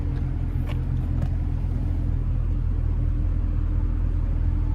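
Steady low rumble of road traffic from a nearby interstate ramp, loud and continuous, with a faint passing whoosh early on.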